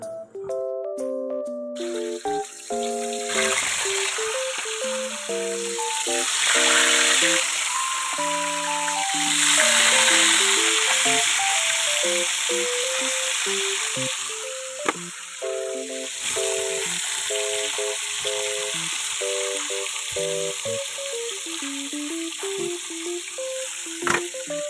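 Fish fries in hot Virginia cooking oil in a pan, a steady crackling sizzle running throughout beneath louder melodic background music.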